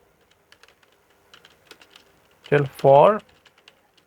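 Someone types a ChatGPT prompt on a computer keyboard, close, scattered soft keystrokes tapping along, briefly interrupted by a man's spoken words before the clicks resume faintly.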